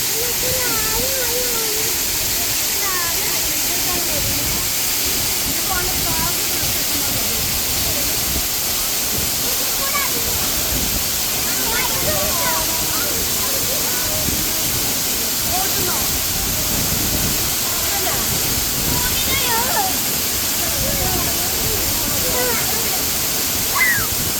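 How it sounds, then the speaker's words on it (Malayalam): Variyan Chola waterfall near Manjeri, its water plunging from a height with force, making a steady, loud, broadband roar that fills the whole stretch with no break. "ഇത്രയും ഹൈറ്റിൽ നിന്നാണ് ഈ വെള്ളം ഇവിടുത്തെ ഇവിടേക്ക് താഴത്തേക്ക് വരുന്നത് അതുകൊണ്ട് തന്നെ നല്ല ഫോഴ്സിലാണ് താഴത്ത് വന്ന് പതിക്കുന്നത്"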